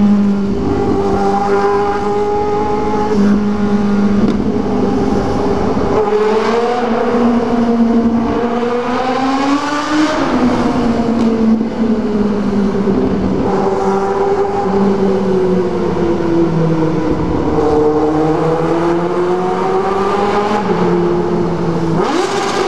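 A car engine revs hard inside a tunnel, its pitch rising and falling through repeated loud, booming pulls that echo off the walls, continuous and close without speech.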